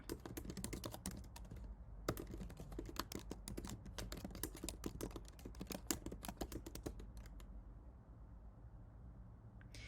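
A passphrase is typed on a computer keyboard in quick, close key clicks, a dense run of keystrokes with a brief pause early on, tapering off near the end.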